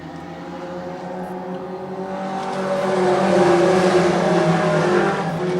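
Four-cylinder pro race cars on an oval track in a heat race, a steady pack of engines droning at a distance and swelling louder as the field comes around.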